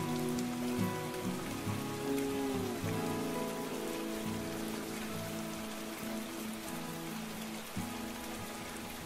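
Steady rain pattering on surfaces in a video game, continuous and even throughout with faint tonal background music underneath and no speech.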